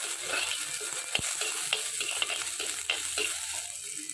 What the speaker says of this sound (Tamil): நறுக்கி வச்சுருக்க வெங்காயம் கருவேப்பிலை போட்டு நல்லா வதக்கி வச்சுக்கணும்